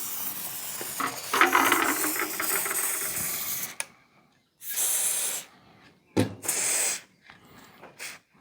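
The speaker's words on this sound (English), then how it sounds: "I'm just going to run some penetrating oil along the bonnet hinge" Penetrating oil sprayed onto the bonnet hinge of a Citroën 2CV, heard as a close, hissing aerosol burst of a few seconds, then several shorter spray bursts with gaps between them.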